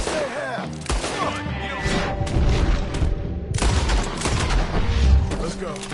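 Dense gunfire in the video game Red Dead Redemption 2: loud, continuous overlapping shots and booms form a sustained barrage, with game voices mixed into the chaos.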